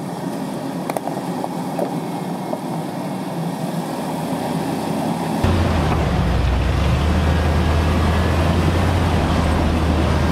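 A Jeep engine drones as it climbs the Dry Mesa Road dirt trail in four-wheel drive, a steady low rumble that grows noticeably louder and deeper partway through.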